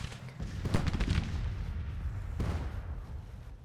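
Massed infantry musket fire in a forest in the GT:TCW video game mod, a rolling rattle of overlapping distant shots swelling then easing, with a second volley cracking out partway through.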